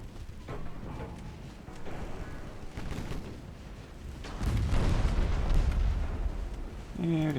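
Battleship main guns firing in a naval warfare game, deep booming blasts rolling out in several heavy bursts, with a louder rumbling salvo near the end over faint game noise.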